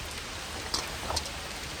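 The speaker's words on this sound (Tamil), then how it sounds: "மழை பெஞ்சிக்கிட்டு இருக்குது நல்லா." Heavy rain pours in the Sirumalai hills where two riders sit stranded on a motorbike out of petrol; a dense, even hiss of downpour fills the whole span, with a couple of brief louder drops or splashes and no talk.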